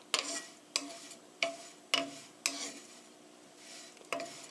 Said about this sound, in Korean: 살살 저어가면서 노릇노릇하게 될 때까지 볶아주세요.